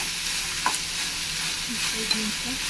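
Tomato and tamarind fry softly in a pan over lowered heat, a quiet steady sizzle with a couple of faint stirring scrapes and no talk.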